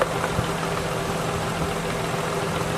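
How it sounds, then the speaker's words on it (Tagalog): A car engine with a noisy airbox and leaking coolant idles steadily nearby with a constant low hum and faint rattling knocks, no voices over it. "Pasensya na kayo sa ingay ng makina"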